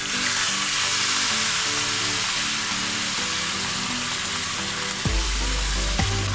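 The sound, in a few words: chicken frying in a kazan as strong black tea is poured in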